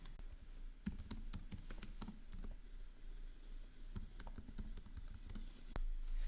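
Typing Python code on a computer keyboard: irregular bursts of close, crisp key clicks with short pauses between runs, heard alone over a low steady hum.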